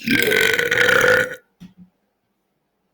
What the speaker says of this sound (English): That was a burp.